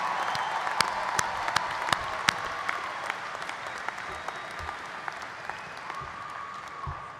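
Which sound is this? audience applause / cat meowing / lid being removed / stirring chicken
audience applause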